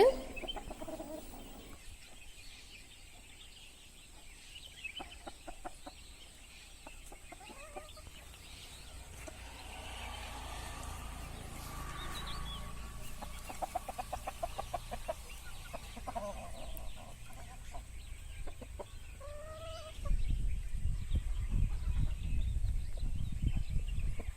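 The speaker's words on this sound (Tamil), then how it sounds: "இதெல்லாம் எங்க வீட்டில் உள்ள நாட்டுக்கோழிங்க." Native country chickens kept at a home kitchen garden cluck and call on and off, close by and fairly quiet, with a rooster-like call and low rumbling noise rising toward the end.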